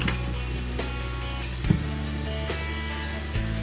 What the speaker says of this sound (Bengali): এভাবে 2 মিনিটের জন্য আমি পেঁয়াজটাকে একটু ব্রাউন করব।